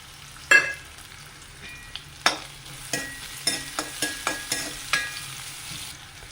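A chopped medium onion fries in coconut oil in a pan, with a steady soft sizzle. A utensil scrapes and clinks against the pan about a dozen times, in an irregular stirring rhythm.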